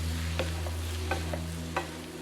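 Onions frying in a pan for a beef samosa filling give a soft, quiet sizzle over a steady low hum, with three or four light stirring scrapes.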